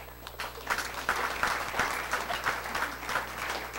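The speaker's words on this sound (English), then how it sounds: "A big round of applause" Applause at a Student Government Day luncheon: an audience claps in a loose, slightly pulsing patter at moderate, somewhat distant level over a low steady room hum.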